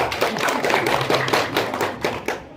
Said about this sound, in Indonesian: tepuk tangan dulu sama Ibu Raita